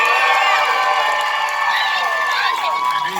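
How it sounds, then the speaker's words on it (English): A studio audience at a Hollywood matchmaker game show applauds and cheers, a loud crowd roar with whoops and shouts layered over steady clapping for several seconds. "applaud and cheer now"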